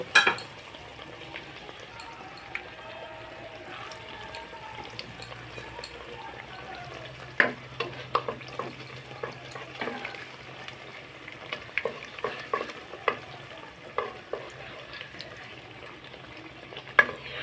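Eggplant fritters (beguni) frying in oil, a soft steady sizzle and bubbling with frequent spatula taps and scrapes against the pan, close and fairly quiet, no talking.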